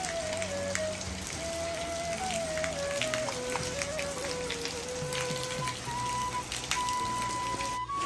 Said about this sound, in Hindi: कितनी जोरदार बारिश हो रही।